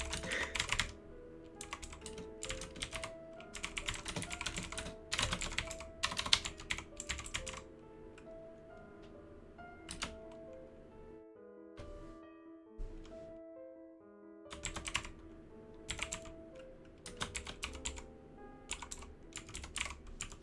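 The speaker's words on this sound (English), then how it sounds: "They've got the new keyboard." Typing on a new computer keyboard, bursts of quick close key clatter with short pauses, quiet and steady rhythm, no speech.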